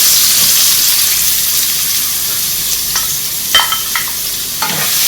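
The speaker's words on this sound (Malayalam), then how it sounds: "നെയ്യ് ഉരുകി വരുന്നുണ്ട്. നമുക്കതിലേക്ക് ഈ പൈനാപ്പിൾ ഇട്ട് കൊടുക്കാം." Pineapple pieces frying in melted ghee give a loud, steady sizzle with occasional scraping stirs of a spoon in the pan.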